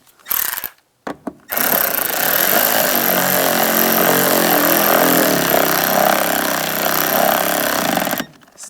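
Power tool driving a screw into a driver side mirror on a 2011-2025 Dodge Durango. A couple of short bursts come first, then a loud, sustained buzzing whir lasting about seven seconds, close up.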